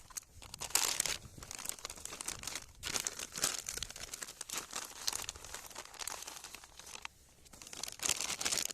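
Plastic crinkles and crackles up close in bursts as a Ukrainian military ration packet is handled and torn open, with brief pauses between rustles.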